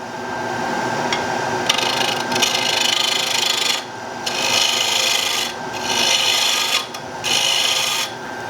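A gouge cuts the inside of a wooden bowl spinning on a lathe during a production bowl run, a steady scraping rasp in several long bursts with short pauses between passes, close and loud with no talking.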